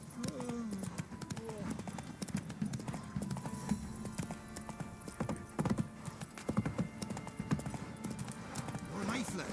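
Roach, the horse in The Witcher video game, gallops with a quick, steady clip-clop of hooves and brief neighs, while a voice talks over the hoofbeats.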